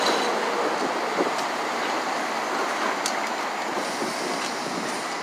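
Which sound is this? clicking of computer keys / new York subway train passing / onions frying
new York subway train passing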